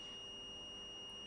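A multimeter in continuity mode beeps while probing a shorted capacitor on a dead MacBook Pro Retina logic board: a single steady, continuous electronic tone held for the whole moment, with no talk.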